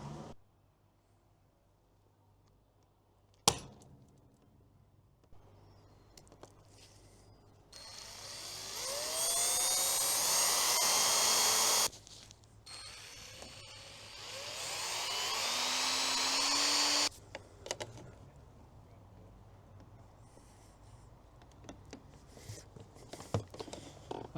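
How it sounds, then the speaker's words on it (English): A drill whines up in two long bursts, its pitch sliding as it bites into 50-year-old metal, with sharp taps and clatter between, close and fairly loud. "gently tap it with my non-existent hammer, and then drill those holes"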